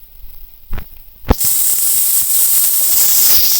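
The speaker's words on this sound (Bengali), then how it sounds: "লঙ্কা আর পেঁয়াজ বাটাটা একটু এইভাবে ভেজে নেব" Onion and chili paste hits hot oil with two sharp knocks, then bursts into a loud, steady sizzle that holds to the end, close and unbroken.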